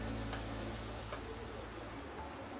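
Malpua batter made with wheat flour and jaggery frying in a pan of oil, giving a steady, close, even sizzle throughout with no talking.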